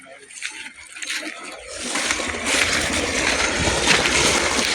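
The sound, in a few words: irrigation water running in onion field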